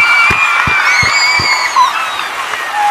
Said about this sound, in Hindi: एक बार तालियां बजाइए सब